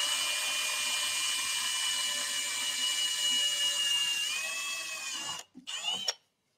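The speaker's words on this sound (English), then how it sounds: "So this is a 7/64 drill bit." A small power drill with a 7/64 bit whines steadily at high pitch, then stutters and stops near the end with a few short bursts.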